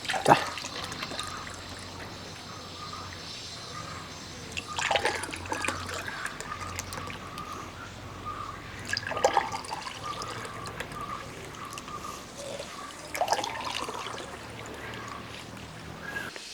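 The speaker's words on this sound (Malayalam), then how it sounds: "ജ്യൂസ് റെഡിയാക്കിയിട്ട് ഗ്ലാസ്സിനകത്ത് ഒഴിക്കാം" Homemade grape juice, made from 12 kg of grapes for a wedding-style party drink, pours and trickles into glasses in a steady liquid stream with a few splashy surges, close by and without talk.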